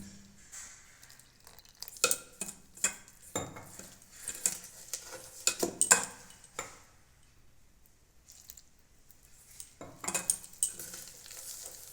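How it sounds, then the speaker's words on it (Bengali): Gram flour batter for begun bhaja is beaten in a bowl, quick bursts of wet slapping and spoon-against-bowl clicks, close and moderately loud, separated by short pauses. "এখন আমি কিছুক্ষণ খুব ভালো করে ফেটিয়ে নেবো"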